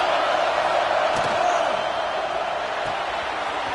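Stadium crowd noise in the football video game College Football 26 on a big third down, a steady loud roar of cheering held evenly throughout with no talk over it.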